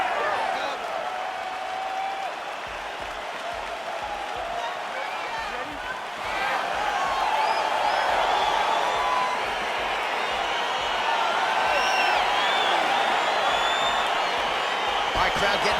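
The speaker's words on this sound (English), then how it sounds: "crowd getting excited as this fight gets underway" Arena crowd roaring and cheering as a UFC bout gets underway in the UFC 4 video game, a steady broad wall of noise that swells louder midway, with an announcer's voice talking over it.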